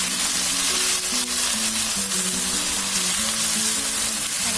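Mutton pieces dropped onto browned fried onions in a pan for cucumber mutton curry, a dense, steady close sizzle and frying hiss with faint stirring, no talking.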